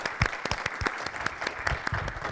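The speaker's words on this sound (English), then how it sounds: "also get the chance to say thank you to all the three speakers and another round of applause" Brief, moderate clapping from a seminar audience thanking three faculty speakers, with fairly sparse, distinct hand claps in an even, steady patter throughout.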